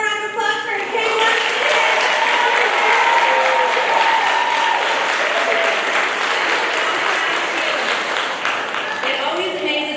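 A large audience at a kindergarten and first-grade school concert gives Kayla a loud, sustained round of applause that holds strongly throughout, while faint tonal sounds and murmuring voices drift underneath.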